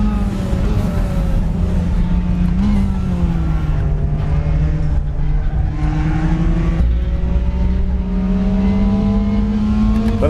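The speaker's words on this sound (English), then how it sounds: "But that engine sound does sound a little bit flat." A race car engine in the RaceRoom sim racing game drones loudly and continuously around the Nürburgring, its pitch rising and dipping through gear changes with a flat, canned tone.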